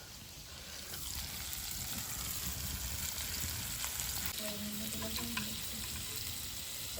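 Kaul being fried in a village outdoor cooking setup, a steady soft sizzle of oil with a few faint clinks and scrapes, heard alone without talk.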